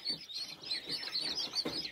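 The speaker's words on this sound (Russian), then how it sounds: "Красивые у итальянской несушки цыплята" Newly hatched Italian Leghorn chicks peep in quick, high, repeated chirps, faint and close, with a few overlapping calls in two seconds.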